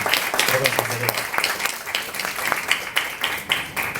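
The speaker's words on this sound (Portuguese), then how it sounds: "pedia então mais um aplauso rápido para a Elizabeth" Audience applause at a book launch at FNAC Colombo in Lisbon: steady, dense clapping from a crowd across the whole moment, fairly close and loud, with a brief voice tone near the start.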